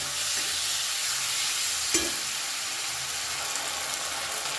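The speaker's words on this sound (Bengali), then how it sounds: "দিয়ে দেবো এক চামচ আদা বাটা আদাটা একটু বেশি এখানে দিতে হবে ভালো করে কষিয়ে নেব আদা বাটাটা" Ginger paste stir-fried in a pan, a soft steady sizzle with one faint scrape of a spoon partway through.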